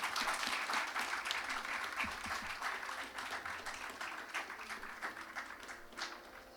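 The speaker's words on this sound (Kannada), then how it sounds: "ಮತ್ತೊಮ್ಮೆ ಜೋರಾದ ಚಪ್ಪಾಳೆ ಬರಬೇಕು." Audience applause after a classical dance performance at a Gejje Pooja recital, a dense, steady wash of many hands clapping that holds strong throughout and tapers only slightly toward the end.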